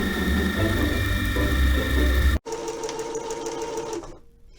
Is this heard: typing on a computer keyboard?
no